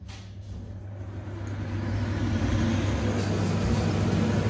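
Steady, loud whooshing fan noise with a low hum from a Samsung kitchen range hood on boost setting, rising slightly in strength and then holding constant, close by and with no talking.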